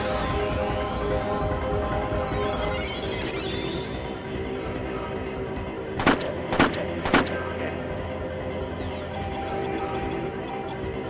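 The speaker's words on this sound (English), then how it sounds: "And then we'll shoot." Video game gunfire and battle effects during a boss fight in Parasite Eve, a steady din of combat noise with three sharp, loud shots standing out near the end.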